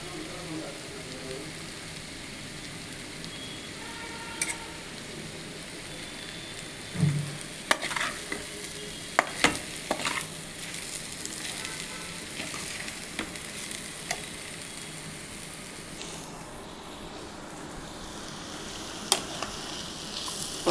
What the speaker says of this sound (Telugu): ఉప్పు కారం వేసి పచ్చివాసన పోయిందాక వేగనిచ్చి